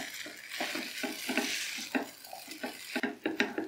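Chopped spring onions being stirred into a sauce in a pan with the flame off, producing a rhythmic series of close scraping, stirring strokes with faint sizzling and utensil clinks, no talk.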